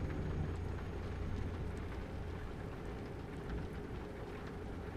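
Rain drumming on the body of a truck in American Truck Simulator, heard as a steady, dense wash of patter that stays even throughout, with no voices.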